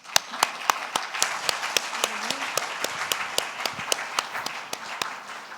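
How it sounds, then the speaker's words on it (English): Thin applause at the closing remarks of a health conference: a small number of distinct, evenly spaced claps ring out crisply over a faint background for several seconds. "Let's give them a big round of applause."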